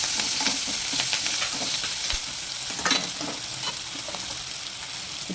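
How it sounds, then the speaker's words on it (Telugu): Curry leaves sizzling in hot oil in a pan while cooking a meal maker curry, a steady crackling fry with a few sharper pops, close and continuous, no talking. "కరివేపాకు వేస్తున్నాను."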